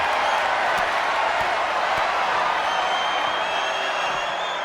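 Crowd noise from a WWE 2K25 ambulance match, a steady roaring cheer from the arena audience that holds loud and dense throughout, with a few faint sharp hits beneath.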